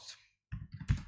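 Typing on a computer keyboard while entering an address into a web browser: a short cluster of quick, close clicks after a brief pause.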